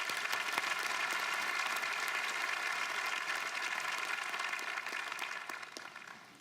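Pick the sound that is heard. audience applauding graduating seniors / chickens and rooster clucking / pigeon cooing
audience applauding graduating seniors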